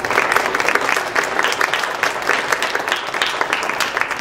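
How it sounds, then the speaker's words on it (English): Audience applause at an art expo opening ceremony for the organizers: brisk, continuous clapping from many hands, close and lively, with no speech. "So I want to give them a round of applause as well."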